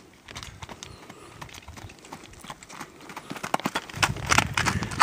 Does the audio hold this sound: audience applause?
no